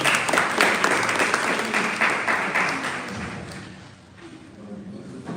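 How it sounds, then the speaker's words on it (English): An audience at a town hall meeting applauds city workers, a dense steady clapping that gradually thins and fades out near the end. "It's okay to clap for them."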